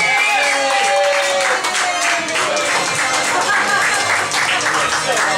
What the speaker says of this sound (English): Give Sid a round of applause, everybody